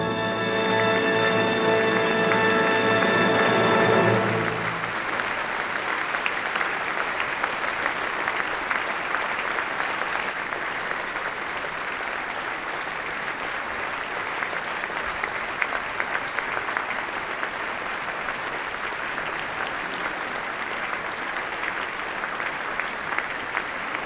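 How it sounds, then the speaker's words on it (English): A ceremony audience at the 2013 Kyoto Prize presentation applauds steadily as the laureates leave the stage. A held musical chord opens the sound and then gives way to sustained clapping that continues to the end. "give a big applause to the laureates as they are going to leave the stage"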